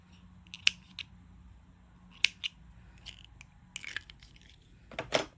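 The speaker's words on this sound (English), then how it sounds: "I'm just going to cut this off" Scissors snip through crochet yarn on a lace top, giving several short, crisp clicks and cuts spread unevenly across a quiet background, close and fairly faint.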